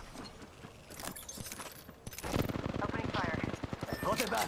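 Automatic weapon fire from Apex Legends, a quick rhythmic string of shots growing louder and denser in the second half, mixed with game sounds and possible voice underneath.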